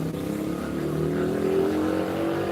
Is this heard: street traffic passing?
yes